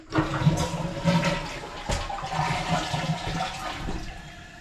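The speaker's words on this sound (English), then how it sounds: "I'm gonna do a flush on that toilet up here." A household toilet flushes with a loud, steady rush of water lasting several seconds, close by and without talk.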